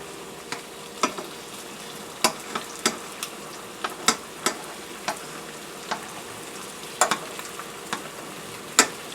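Marinated shrimp sizzle in butter and olive oil in a saucepan, a soft steady fizz punctuated by sharp pops and spits every half second or so, close but fairly quiet, with no talking.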